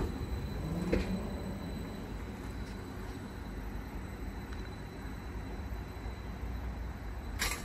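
Class 755 unit 755-336 at Ipswich station, a steady low rumble of the train under broad station noise, with a few brief clanks and a short squeal near the start and end.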